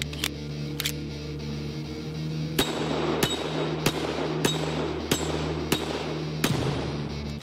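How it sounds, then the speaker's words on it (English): Seven sharp pistol shots from a Marine Corps Colt M45A1 fired at a target about 7 yards away, spaced roughly half a second apart, loud and close over a steady background hum. "That was 7 rounds fired into the head using the M45A1."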